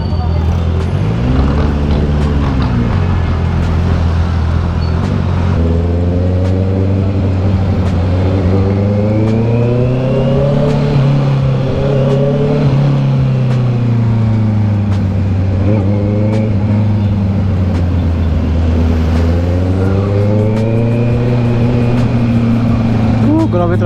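A Honda CB650R motorcycle with a new aftermarket exhaust is ridden through traffic, its engine rising and falling in repeated revs over a constant loud rumble, with a rider talking over it throughout.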